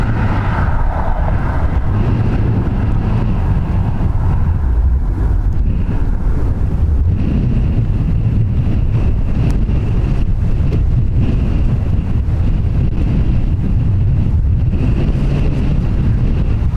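Strong gusty crosswind at Dublin Airport buffets the microphone in a loud, steady low roar that rushes on without a break, with no voices heard.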